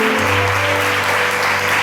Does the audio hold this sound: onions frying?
no